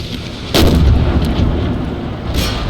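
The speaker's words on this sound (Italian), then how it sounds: "dovrai concentrare il fuoco d'artiglieria in un solo punto" Cannon artillery in Empire Total War, fired during a siege on city walls: a heavy booming shot lands amid a rumbling battle din, followed by a second, lighter blast near the end.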